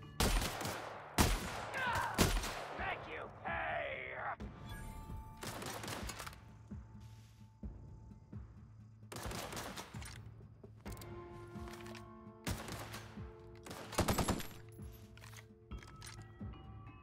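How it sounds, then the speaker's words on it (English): Shotgun blasts in The Outer Worlds, a handful of sharp loud broadband bangs spaced irregularly through a stretch of game ambience, with a louder shot near the end and quieter game sounds between. "This shotgun's great."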